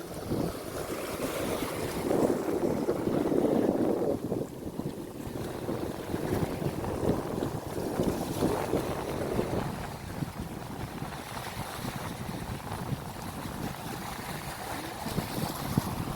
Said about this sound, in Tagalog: Ang ganda, ang ng tunog ng dagat.